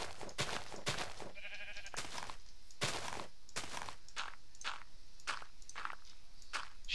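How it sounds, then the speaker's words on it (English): Sheep bleating in a video game, one wavering bleat in the middle amid repeated sharp clattering footstep-like hits that run throughout. "Sheep again climbing on the house."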